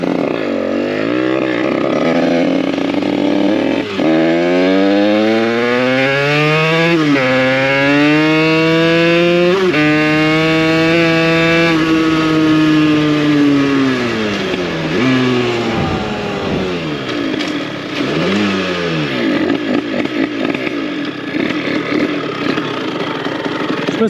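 A 70cc AM6 moped engine runs close by, a loud buzzing two-stroke note that revs up and falls back repeatedly in rising and falling sweeps, ending in a rough idle.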